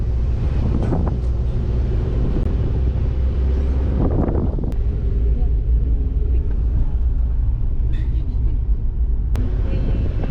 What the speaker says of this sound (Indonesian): Baru ini keadaan di dalam mobil.